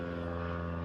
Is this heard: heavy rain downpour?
no